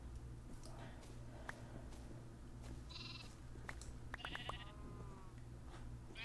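Sheep bleating in a Minecraft-style video game near a swamp, a few short bleats around the middle and later part over a low steady background hum.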